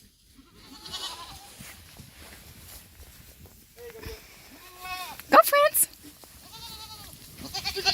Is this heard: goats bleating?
yes